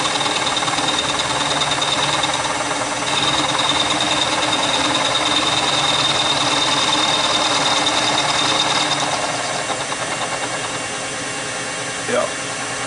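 A metal-cutting machine working through cast iron in a workshop, a loud, steady grinding whine with a thin high tone running through it, continuing for several seconds before easing slightly near the end.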